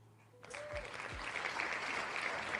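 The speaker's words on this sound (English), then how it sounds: "hold your applause" Audience applause breaks out suddenly and fills the room after a short quiet start, steady and moderately loud with a brief voice and a low thump early on.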